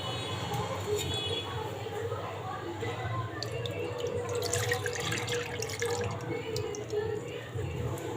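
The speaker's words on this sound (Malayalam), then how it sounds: "അതിന് നമുക്ക് ആദ്യം പാത്രത്തിലേക്ക് 2 കപ്പ് പാൽ ഒഴിച്ചു കൊടുക്കാം." Two cups of milk poured into a vessel while making jackfruit ice cream, a steady liquid splashing and trickling that runs throughout under a low background hum.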